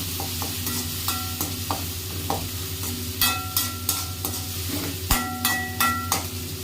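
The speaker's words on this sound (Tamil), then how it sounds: "இதையும் நல்லா எண்ணெயிலேயே வதக்கிக்கலாம்." Crushed small shallots sautéing in hot oil for a country chicken soup, a steady close sizzle with intermittent bright scrapes and clinks of a spoon stirring against the pan, no talking.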